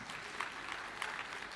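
Audience applause at an engineering summit, a steady patter of many hands clapping at low level with no voices over it.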